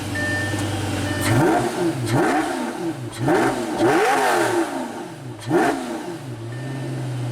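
A 2007 Lamborghini Gallardo revs repeatedly, several loud, close blips that rise and fall in quick succession before settling back to a steady idle.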